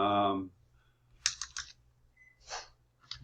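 Someone types on a computer keyboard, giving a few short bursts of light clicks close by after a brief spoken voice at the start, with gaps of quiet between the bursts.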